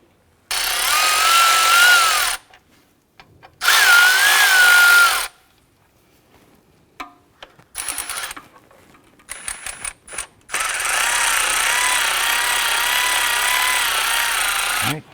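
A power tool snugging down exhaust manifold bolts on a 2001-2005 Honda Civic engine, several loud whirring bursts of a few seconds each separated by pauses with small ratchet clicks and metal handling noises, close up.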